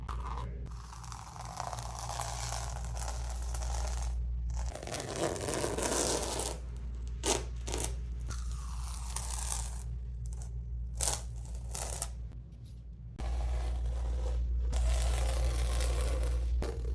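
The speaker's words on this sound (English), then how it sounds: "Oh, I should let you hear the tape peel again." Thin strips of painter's tape peeled slowly off a painting in a quiet art studio, a series of close, soft crinkling tears and scrapes repeating over a low steady hum.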